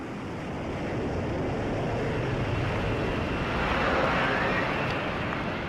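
A loud, steady roar from an F-35 lift fan under a thrust test, running without a break and swelling slightly toward the end, with a windy, rushing quality.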